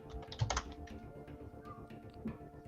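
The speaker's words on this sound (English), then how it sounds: "please be ready to type on your keyboards" Contestants in a crypto quiz final type answers on computer keyboards, a quick patter of soft key clicks with a few louder taps, continuous and fairly faint over a low room hum.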